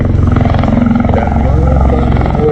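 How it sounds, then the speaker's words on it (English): A USMC MV-22B Osprey tiltrotor at an airshow, its prop rotors pounding out a loud, rapid, steady throbbing beat up close, with deep rumbling engine noise throughout. "the sound of those prop rotors beating the air into submission as the V-22 defies the laws of aerodynamics"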